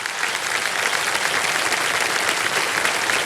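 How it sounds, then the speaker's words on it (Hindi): Steady, dense applause from a television game show studio audience, loud and continuous throughout with no voices over it. "ताली बज जाए इनके लिए"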